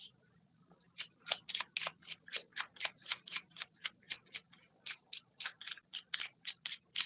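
A deck of playing cards is shuffled by hand during a live magic show, giving a rapid run of crisp riffling snaps and flicks, close and clear, with no talk over it.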